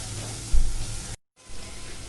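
Millet and soya sauté lightly in a pan with a steady close sizzle, briefly louder as they are stirred, then a short gap of silence before the sizzling resumes.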